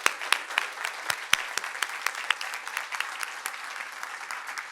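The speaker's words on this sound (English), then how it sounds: "Let's give them a round of applause." An audience claps at the Jesse White State of Illinois Building renaming ceremony: sustained, fairly loud applause from a crowd, with dense overlapping claps and a few sharper individual claps throughout.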